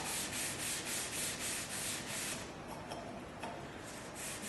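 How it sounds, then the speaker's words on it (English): Wood being hand-sanded with 150 grit sandpaper to shape a finger groove, with steady rhythmic back-and-forth rasping strokes up close, easing to lighter, irregular rubbing near the end. "Got some 150 grit sandpaper just to make it comfortable."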